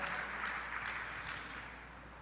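A church congregation applauds, a soft, dense wash of clapping at a distance, steady and faint throughout.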